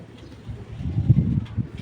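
A racing pigeon coos close by, giving a low, throaty, rolling coo that swells briefly in a short burst.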